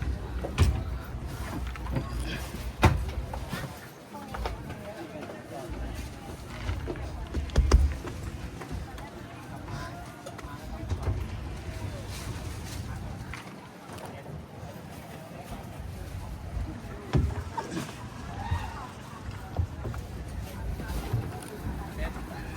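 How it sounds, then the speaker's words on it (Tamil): A speed boat running on the sea near Pattaya, its engine rumble and hull thumps against waves heard under wind noise, with intermittent bumps and splashes and people talking over it. "ஸோ ஸ்பீட் போட் ஸ்டார்ட் ஆகிடுச்சு"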